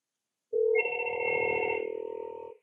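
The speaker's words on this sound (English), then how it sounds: "Now I'm going to demonstrate what happens when you use an intercom to call one of the phones." A desk phone rings when a Fanvil A12 intercom calls it: one sustained electronic ring tone, close and clear, beginning abruptly and holding steadily for about two seconds before stopping, with no voices.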